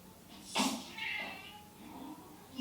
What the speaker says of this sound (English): You alarmed my cat.